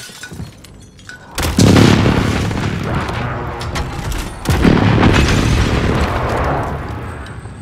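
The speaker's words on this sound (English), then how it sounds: "Enemy precision airstrike." Two heavy precision airstrike explosions in Call of Duty: Modern Warfare, each a loud, close boom that rolls on into a long rumble, the second arriving a few seconds after the first.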